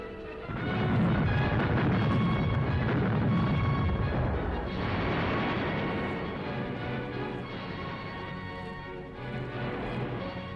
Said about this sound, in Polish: Prawie 30 centnarów dynamitu potrzeba na wysadzenie walu, aby otworzyć w wodzie drogę do gotowych bunkrów.